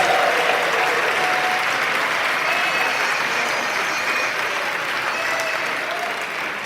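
An audience at a gun responsibility fundraiser gala applauds donors, a loud, dense, continuous roar of clapping from a large crowd that holds steady throughout, with faint voices scattered within.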